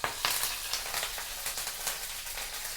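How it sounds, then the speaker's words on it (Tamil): Mustard seeds and curry leaves sizzle in hot coconut oil while tempering for Kerala-style avial, a continuous close-up crackle with sharp pops scattered through it and no voices. "இப்போது எண்ணெய் காஞ்ச உடனே கொஞ்சமாக கடுகு பொரிஞ்ச உடனே கருவேப்பிலை"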